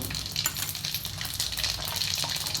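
Mustard seeds and cumin sizzle in hot oil for a cauliflower dish, a steady dense crackle and hiss with scattered pops throughout, close and fairly loud with no talking.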